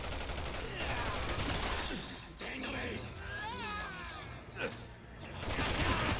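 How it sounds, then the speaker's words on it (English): Gunfire in Resident Evil 6, with Chris and Piers under attack: rattling, continuous shooting runs under a busy game mix with occasional whooshes and a swelling burst at the end, while someone talks over it. "I'm taking a little fire here"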